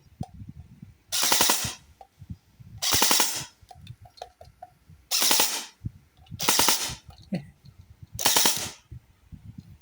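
A toy gun fitted with a replacement spring and motor fires on full auto in five loud, evenly spaced bursts of rapid rattling shots, each about a second long, with quiet pauses between.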